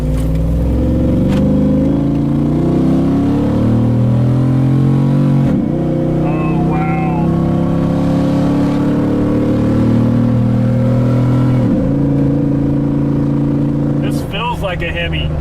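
A 500 HP Hemi V8 in a Jeep JK rumbles loud and close on a test drive, rising and dropping with each shift, while people talk throughout.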